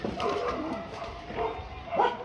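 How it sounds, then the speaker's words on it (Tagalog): A dog barks and yips several times close by, with whiny, uneven bursts and no talking. "Maingay ng aso namin."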